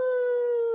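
A person's voice imitates a small, soft baby howl: one short, steady, high-pitched 'ow' held for under a second, heard alone.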